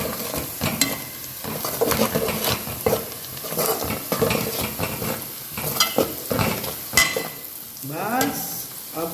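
Mutton frying in soya sauce crackles and sizzles in a pan while a spoon scrapes and stirs it in repeated uneven strokes, loud and close, with no talking.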